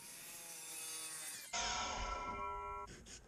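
A power saw cuts through MDF board with a steady whining buzz, pitch shifting as the blade bites in, then winding down near the end.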